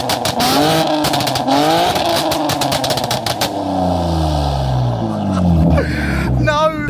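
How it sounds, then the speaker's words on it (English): A loud BMW M4 engine revs hard several times, each rev falling away into popping, crackling burbles from the exhaust. "I'll do a few revs and hear how these aggressive burbles sound."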